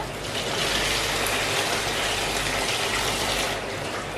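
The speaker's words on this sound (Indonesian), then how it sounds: "Kita cuci dengan air mengalir." Sago pearls being rinsed under running tap water: a steady, loud broadband gush that continues without a break for about four seconds, with no voices.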